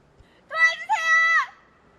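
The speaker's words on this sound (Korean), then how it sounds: "공원 안을 조용히 걷고 있다가 소리를 질러 위기 상황을 알리고 있습니다" A person screams in a park during a staged emergency. Two loud, drawn-out, high-pitched cries run together for about a second, clear against a quiet background.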